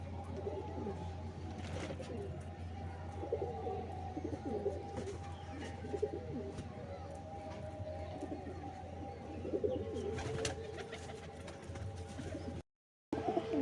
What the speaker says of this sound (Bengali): চলো ছেড়ে দেখাই পায়রাগুলোকে।